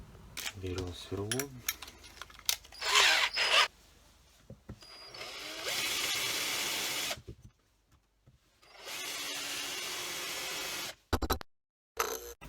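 Power drill used while servicing a removed EGR valve from a Honda Odyssey RA6, a few separate bursts of whirring, a sustained run of several seconds, clicks and handling noises between them, and a voice speaking early on.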